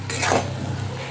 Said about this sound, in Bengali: এবার এটা ভালো করে মিক্স করে নেব।